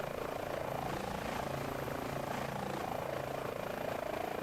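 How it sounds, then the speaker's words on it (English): An Airbus H145 military-variant helicopter in Microsoft Flight Simulator 2020 gives off a continuous loud rotor and turbine drone with a steady rhythmic thump, heard alone and unchanging. "I absolutely adore this this helicopter."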